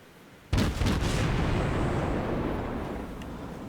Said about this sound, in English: I'm getting shot at by the Cleveland.